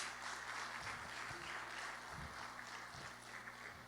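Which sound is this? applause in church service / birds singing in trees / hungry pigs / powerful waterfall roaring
applause in church service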